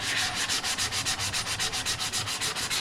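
Sandpaper rubbed back and forth over a 3D printed plastic Scout Trooper helmet, a steady run of close, rasping strokes in a quick regular rhythm, about six per second, with no voices.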